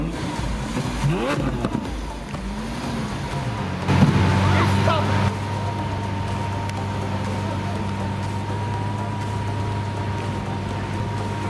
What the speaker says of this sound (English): This Lamborghini is driving through the city being really loud